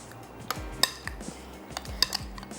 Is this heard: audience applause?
no